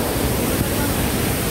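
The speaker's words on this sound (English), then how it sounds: "Excellent waterfall." Pitteguda waterfall in Telangana's Asifabad Mandal roars as a steady, dense wash of falling water, loud and unbroken from start to finish.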